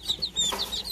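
Several young chicks with white breasts give quick, high, thin peeps close by in a short burst.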